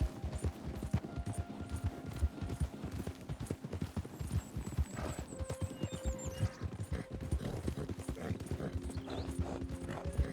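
Rapid hoofbeats of a galloping horse in Red Dead Redemption 2 pound steadily and close, with faint tonal game sounds and noise layered over them.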